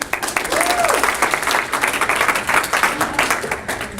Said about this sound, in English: Give your hands, yourself a round of applause, please.